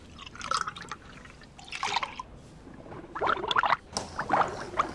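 Hot chocolate made with milk bubbling in a pot, irregular wet plops and gurgling pops in separate bursts, close and moderately loud.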